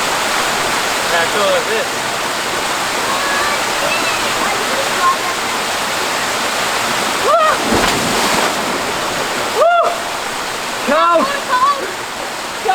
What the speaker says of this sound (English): got a little waterfall coming down, a big deep rock pool there